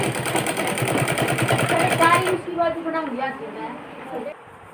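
A sewing machine stitches a folded fabric edge along a neckline, a fast, rattling run of stitches that stops after about two seconds, followed by a nearby voice talking.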